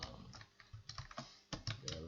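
Quiet, uneven keystrokes clack on a computer keyboard while code is typed, with short bursts of taps and small pauses between them, close to the microphone.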